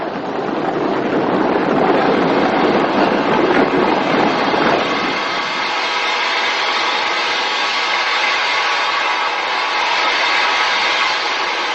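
A steam train running on a 1950s UK line, a loud broad rumble and rattle of passing carriages that eases after a few seconds into a steady, quieter running roar.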